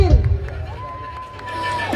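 A crowd cheers and whoops at a benefit party, with loud shouts and applause rising and falling over a couple of seconds, with a voice talking under it.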